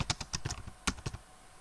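Quick, light clicking of keystrokes on a computer keyboard, a short irregular burst of taps that thins out near the end, close and fairly quiet.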